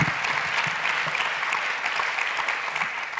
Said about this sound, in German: Das war euer Applaus